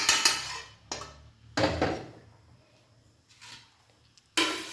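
Metal cookware clatters on a stovetop as a pan of curry leaves and lentils, browned for a Karnataka-style chitranna, is lifted off the heat, with several sharp clanks and scrapes separated by quiet gaps.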